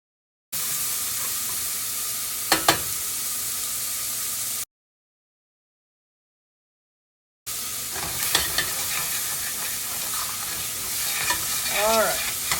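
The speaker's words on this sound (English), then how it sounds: "so in goes the bacon. I've been preheating this pan, and we're going to stir that and cook it until it's crispy" Bacon sizzling in a preheated pan for scallop and bacon chowder, a continuous close hiss with scraping stirs and spatters, broken by a few seconds of complete silence before the frying resumes.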